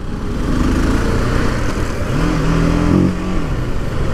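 TVS Apache RTR 310 naked motorcycle on a road ride, its engine droning loud and steady with a rising rev around the middle before settling, wind noise throughout and no voices.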